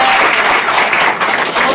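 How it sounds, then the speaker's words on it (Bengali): Audience applauding at a Howrah City Police road-safety event, a dense, loud burst of many hands clapping together that continues steadily throughout. "এই জন্য সবাই একবার জোরে হাততালি।"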